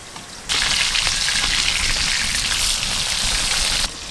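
Pieces of fresh desi rohu-type fish sizzle loudly in hot oil, the frying hiss jumping up abruptly and holding steady before dropping back at the end, close and alone.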